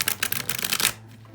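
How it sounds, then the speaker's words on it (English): A Whispering Spirits tarot deck being riffle shuffled, a close, loud burst of rapid card flutter that runs for under a second and then cuts off into quiet. "Oh, this really does shuffle well."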